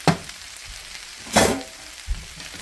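Polska kielbasa sizzling in a greasy pan and being stirred: a soft, steady fry with a few bursts of scraping and clatter from the utensil, fairly quiet and without speech.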